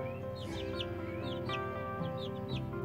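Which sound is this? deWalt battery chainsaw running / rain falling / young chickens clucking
young chickens clucking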